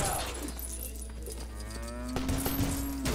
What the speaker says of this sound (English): It's just another cow.